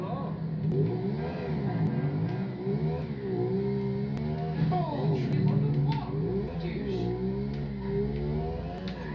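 A heavy motorcycle in GTA 5 Online accelerating in a straight line, its engine revving in rising and falling sweeps under continuous talk.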